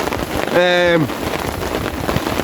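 Torrential rain drums steadily and densely on a tent during a wild camping night, loud and close throughout, with a short voice-like tone rising over it briefly.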